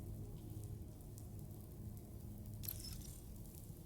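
Steady, soft rain patter falls throughout the Death Stranding 2 game scene, a dense continuous hiss with low rumble beneath and a brief brighter splash near the end, with no voices.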